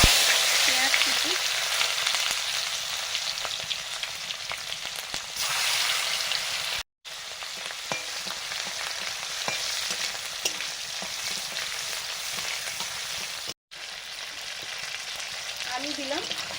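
Chopped onion frying in hot oil with dried chilli, black cumin and turmeric, a steady close sizzle running throughout with a few stirring scrapes and two brief dropouts.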